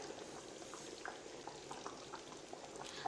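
Coconut curry boils in a pot, with oil separating on top, giving a steady, close bubbling simmer full of small pops and gurgles throughout, with no voices.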